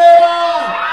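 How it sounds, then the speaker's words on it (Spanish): Single women in a crowd at a live Christmas concert in Salta, Argentina, let out a loud, sustained group shout and screams, high-pitched and close, fading slightly over a second. "A ver el grito de las chicas solteras."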